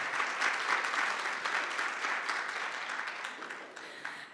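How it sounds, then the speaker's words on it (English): An audience at a guide dog school graduation applauds volunteers and donors with steady, dense clapping that fills the room for several seconds, fading slightly toward the end. "can I get a round of applause for the volunteers and the donors?"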